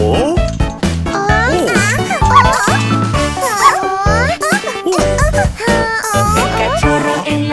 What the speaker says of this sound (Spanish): El cachorro en la granja hace guau, guau, guau